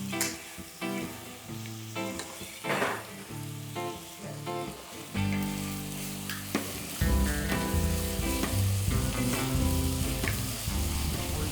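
Onions and peppers sauté in olive oil in a pan, a sizzling, crackling fry that grows louder and denser partway through, with occasional stirring scrapes and no talk.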